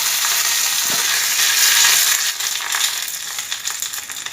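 Mustard seeds, garlic and onion fry in oil for a tempering, a loud close hiss of sizzling with stirring and scraping throughout, easing slightly after a couple of seconds, no voices.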